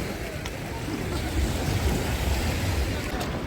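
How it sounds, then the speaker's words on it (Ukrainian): Sea waves at night heard from a pier at Langeron beach in Odesa, a steady, broad wash of surf with rumbling wind noise, loud and continuous. "Море з пірса."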